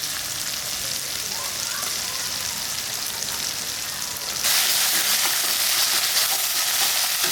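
Ginger-garlic paste going into hot oil over fried onion and tomato in a pan, cooking for a Bengali rohu fish curry. A steady sizzle runs throughout and grows louder partway through, with no talking.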